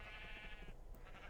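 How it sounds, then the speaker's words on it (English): Sheep bleating in the Minecraft video game: a sustained, nasal blocky-game bleat, loud and close, running through most of the short moment before trailing off. "The worst sheep ever."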